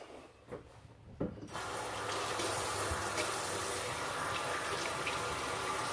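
Tap water runs into a sink over heirloom Cherokee tomatoes being rinsed, a few handling knocks first, then a steady close gushing stream that continues to the end.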